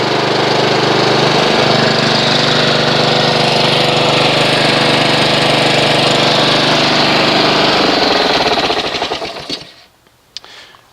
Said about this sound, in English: I'm going to go ahead and run the engine, get the engine up to operating temperature.